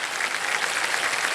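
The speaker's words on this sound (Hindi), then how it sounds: "तालियां।" Studio audience applauding on a televised game show set, a dense, even wash of many hands clapping at once, loud and sustained throughout the short stretch with no voices over it.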